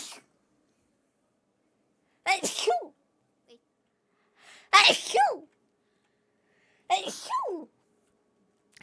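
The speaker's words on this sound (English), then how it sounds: "Let me sneeze." A person with allergies sneezes three times in a row, each a loud, sharp burst with a breathy intake before it, spaced a couple of seconds apart with silence between.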